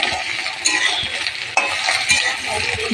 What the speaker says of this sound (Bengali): এদিকে আলু ভাজতে দিয়েছি